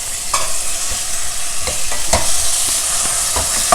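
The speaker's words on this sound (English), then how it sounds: "Stir fry the tomatoes also till they become nice and soft" Finely chopped ripe red tomatoes stir-fry for tomato poha with a loud, constant sizzle near the pan, broken by repeated sharp scrapes and taps from the stirring utensil.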